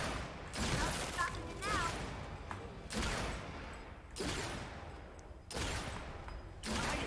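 Repeated sniper rifle shots in the video game Gears 5 crack out in loud bursts roughly every second or so, each followed by a short trailing decay, with game sounds in between and no talking.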